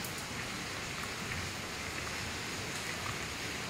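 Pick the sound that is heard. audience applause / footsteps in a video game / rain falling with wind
rain falling with wind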